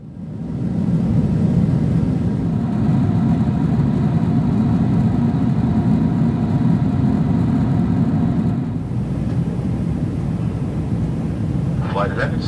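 Steady, loud low engine roar fills the economy cabin of an Air Canada Boeing 777-300ER cruising toward Heathrow, with a faint hiss on top and a brief shift near the end.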